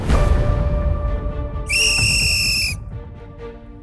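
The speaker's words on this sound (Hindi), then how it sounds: "अर्चना, गौरव, अब ये बताओ अपनी पावर सीटी से किसकी सीटी बजाओगे?" A sharp, piercing whistle blast in a celebrity cooking competition kitchen, one sustained shrill tone lasting about a second over a busy background of clatter and room noise.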